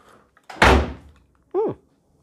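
A Nissan 350z car door swings and slams shut with one loud, close thud, followed a moment later by a brief, rising-and-falling squeak or voice-like sound.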